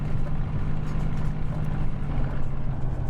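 Flying Iron Spitfire piston engine in Microsoft Flight Simulator, at Duxford, droning as a steady, loud, low rumbling hum with a rough, tractor-like throb that holds unbroken throughout.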